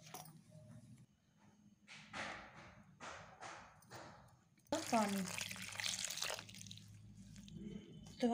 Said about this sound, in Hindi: मैंने आधा के कप इसमें पानी डाला है, थोड़ा थोड़ा पानी डाल के